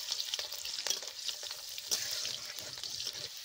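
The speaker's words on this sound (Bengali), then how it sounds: "গরম তেলে দিয়ে দিচ্ছি কাঁচা লঙ্কা আর দিয়ে দিচ্ছি 5 ফোড়ন" Green chillies and panch phoron crackle and sizzle in hot oil, with quick pops and a spoon stirring close by, steady and moderately loud without speech.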